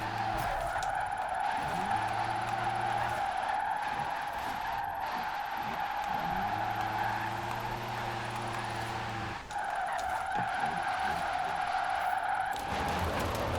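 A Rimac C Two drifts in Forza Horizon 4, its tyres squealing in long sustained screeches over a steady electric motor whine, with brief dips between slides.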